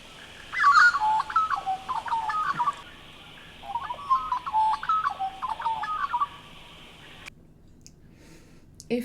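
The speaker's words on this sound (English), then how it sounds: "you should have heard the sound of an Australian magpie singing then, which is one of my favourite bird sounds here" An Australian magpie sings two warbling, fluting phrases of rich, liquid notes, separated by a short pause. The song is clear and fairly close, with quiet outdoor ambience and no talking.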